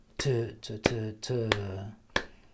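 Sharp hand claps land on the beat in a musician's improvisation exercise, several crisp isolated claps spaced through the moment with brief sung or voiced tones between them.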